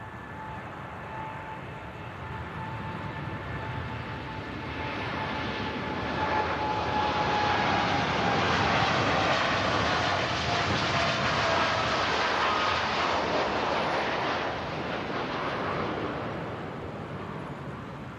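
A Gulf Air jet airliner at Manchester Airport, a broad engine roar swelling to a peak midway then easing, with a faint whining tone, alone without talk.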